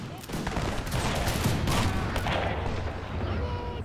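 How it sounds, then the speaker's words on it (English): Grapeshot and rifle volleys fire in an Anglo-Zulu War battle game at Isandlwana, heard as a dense, continuous crackle of shots and booms that fills the scene and is loud throughout. "Let's see if we can't fire some grape shots into these guys, as well as give a good amount of rifle fire."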